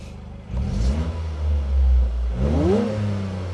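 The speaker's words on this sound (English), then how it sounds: "Ooh, give it a little rev." A 2023 Toyota GR Corolla engine revs in neutral: two quick, loud blips rising and falling close by, with the idle rumbling between them and no talking.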